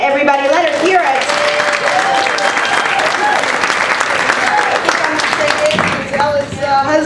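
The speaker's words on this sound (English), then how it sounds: "applause for Helaine Witt, everybody. Let her hear it." A comedy club audience at Carolines applauds comedian Helaine Witt with a sustained, dense burst of clapping and some cheering that tapers near the end.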